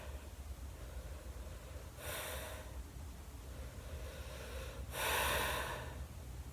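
Slow breaths during a yoga stretch, two soft, airy exhalations a few seconds apart, close but quiet over low room noise.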